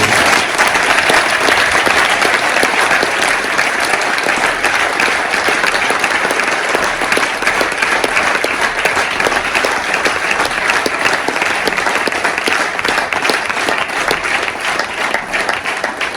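Sustained applause from an audience at a gathering honouring an ultra-distance sea journey, dense and loud clapping continuing evenly for the whole stretch without pause.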